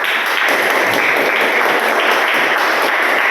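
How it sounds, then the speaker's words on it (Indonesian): A classroom of students applauds during a lesson on Islamic inheritance law, giving steady, dense clapping that stays loud and even throughout with no pauses. "kita beri tepuk tangan untuk kita semua"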